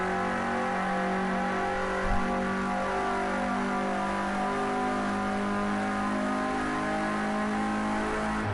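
A Renault Clio Cup race car engine drones steadily on track at Sportsland Sugo, heard from on board. The high, buzzing engine note holds loud and constant with little change and no talk.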